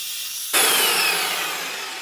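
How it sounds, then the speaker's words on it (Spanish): A power drill with a 5 mm bit bores into the end grain of pallet wood, starting abruptly after a brief lull and then grinding steadily and loudly up close. "aquí le vamos a hacer 3 taladros en la testa"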